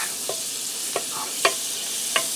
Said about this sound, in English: I'm going to put about 2 more tablespoons of butter in here.